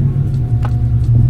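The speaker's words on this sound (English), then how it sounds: "Starting up the blue car, the blue third. Finally can idle." A blue drift car's engine idles just after start-up, a loud, steady low rumble close by with a faint tonal hum and slight unevenness.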